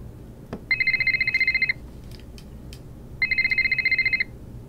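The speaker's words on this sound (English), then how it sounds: "Could also just be the phone." Telephone ringing in the Nancy Drew game Ghost of Thornton Hall: two bright electronic trilling rings, each about a second long, separated by a short pause, clear over a quiet room tone.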